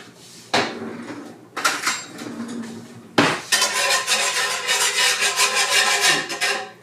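Kitchen drawer being rummaged through for a whisk, with utensils and metal tools clattering and scraping in loud bursts that build into a sustained, dense rattle near the microphone.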